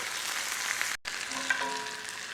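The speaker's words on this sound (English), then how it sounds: "That's about how we want to have it seared and kind of brown just a little bit." Beef searing in a hot pan for barbacoa, a continuous bright sizzle broken by a brief silent cut partway through, with a faint tonal ring near the end.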